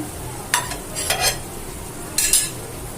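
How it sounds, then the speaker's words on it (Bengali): Fried chana fritters are lifted out of a pan of mustard oil: three quick metallic scrapes and clinks stand out against a low, steady sizzle, close by and without speech. "ভাজা হয়ে গেছে তুলে নিচ্ছি"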